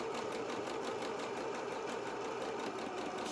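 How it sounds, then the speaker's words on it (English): A sewing machine zigzag-stitches along the edge of fabric for beginner trousers, giving a fast, steady, rhythmic mechanical whirr up close with no talking. "I'm just going to zigzag across the edge here on all 4 sides."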